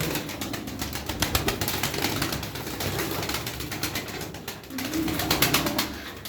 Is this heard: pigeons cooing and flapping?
yes